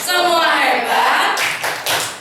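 Teachers in a training session clap together in a rhythmic classroom chant, sharp bursts of group claps following voices that call out the chant.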